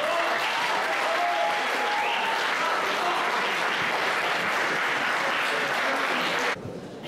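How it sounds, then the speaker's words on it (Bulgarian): A crowd at a Stara Zagora deputy mayor candidates' event applauds, with dense, steady clapping throughout that fades slightly in the final half second. "Аплодисменти за това!"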